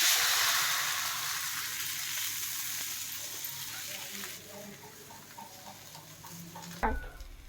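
Thalipeeth flatbread sizzles on a hot tawa, a bright steady frying hiss that slowly eases, ending with a short clatter near the end.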